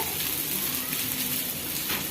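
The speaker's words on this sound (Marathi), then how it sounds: "तवा गरम झालाय ते तवा घालून घ्यायचे आता ह्याच्यावर थोडं तेल घालून घ्यायचंय" Oil sizzles on a hot griddle for poha-rava thalipeeth, a steady soft crackling hiss with no break and no talking.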